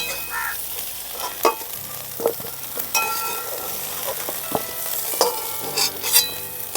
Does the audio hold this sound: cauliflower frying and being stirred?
yes